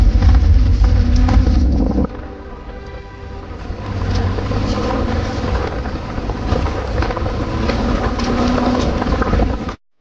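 A car engine rumbles loudly and continuously as the vehicle drives, with heavy low-end roar and wind buffeting, then abruptly cuts off.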